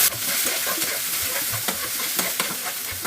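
Onion, garlic, ginger and bay leaf frying in a pan give a steady, close sizzle, with occasional stirring scrapes breaking through the crackle.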